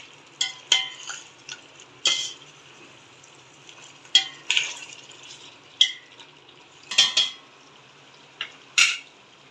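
Chicken pulao is stirred and mixed in a pot with a utensil. Sharp scraping clinks come in scattered bursts over a faint sizzling background, near and with no talk.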